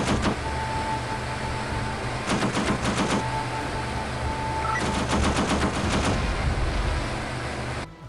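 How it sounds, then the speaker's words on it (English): Four nose-mounted M2 Browning .50 caliber machine guns on a P-38 Lightning firing in several rapid bursts over a steady aircraft engine drone, loud and close. "50 caliber machine guns."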